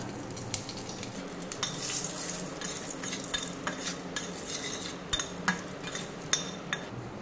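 Whole spices (cloves, a licorice stick and dried red chillies) fry and crackle in hot oil for a Bengali dish, with faint continuous sizzle and occasional spoon clinks against the pan.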